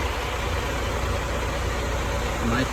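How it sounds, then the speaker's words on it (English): A truck's engine idling in a queue of trucks at a loading dock, a loud, steady low rumble filling the whole moment without change. "There are a bunch of trucks in the line."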